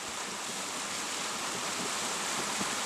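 Mountain stream in Wondobong valley on Dobongsan, Korea, rushing steadily as a broad, even hiss of flowing water, close and constant throughout, with no voices.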